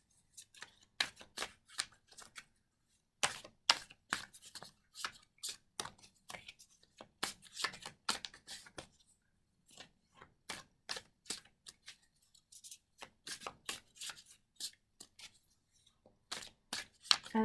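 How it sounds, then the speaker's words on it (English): Tarot cards are shuffled close up: rapid bursts of crisp papery flicks and clicks, with brief pauses between the bursts. "I'm just going to finish up this little shuffle job here."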